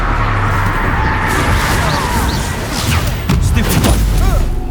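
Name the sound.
Confringo fire spell cast in video game Hogwarts Legacy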